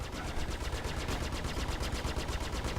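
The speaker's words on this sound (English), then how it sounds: "Gimbaling gun is much easier to hit them with." A gimbaled ship gun in Star Citizen fires at Vanduul ships as a fast, even stream of rapid pulses, dense and loud throughout and never pausing.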